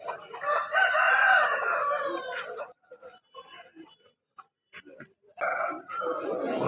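A rooster at a Vijayawada rooster market crows loudly and fairly close, one long drawn-out call, followed by scattered clucks and short noises before another burst of sound.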